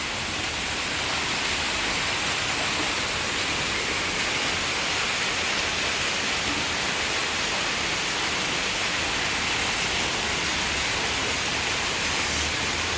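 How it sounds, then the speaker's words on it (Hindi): Heavy rain pours steadily onto a street as water floods the lane and gushes from the drains, a dense, unbroken roar close by that runs through the whole stretch with no voices. "ये देखिए पूरी गली भर गई, कितनी तेज़ पानी गिर रहा है, बहुत तेज़ गिर रहा है।"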